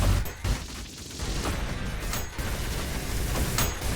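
Gunfire rattles against the Flesh Prison boss in a video game, dense and loud, with repeated sharp bursts over a constant roar of in-game effects.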